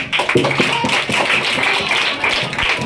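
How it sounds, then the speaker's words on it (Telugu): A group claps for a correct answer during a school Mathematics Day drama, with steady rapid applause and voices talking over it. "క్లాప్స్"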